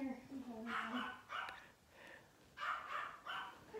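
Several dogs bark and yip in short bursts nearby, mixed in with a person talking, during agility hurdle practice with Springer Spaniels.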